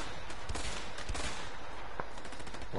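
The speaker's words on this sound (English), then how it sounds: "I should not have taken a machine gun." Rapid bursts of machine gun fire in the video game A Way Out, loud and continuous over dense battle noise, with several sharp shots punching through.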